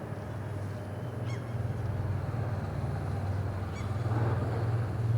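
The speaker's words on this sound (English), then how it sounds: "as you can hear, it's buzzing with seagulls" Seagulls call in the town centre at Nordkapp, two faint, distant cries heard over a steady low rumble of traffic and town noise.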